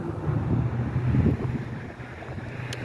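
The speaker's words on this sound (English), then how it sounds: "It's been windy all day" Wind blowing outdoors in front of a house, a steady low rushing roar with gusts that swell and fade, buffeting the microphone throughout with no talking.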